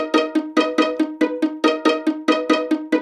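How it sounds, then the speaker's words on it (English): A bouncy, plucked pizzicato string synth repeats short staccato notes in a steady rhythm, each note decaying quickly, loud and alone. "I'm gonna start off with a pizzicato string and build onto that."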